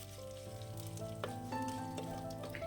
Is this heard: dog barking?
no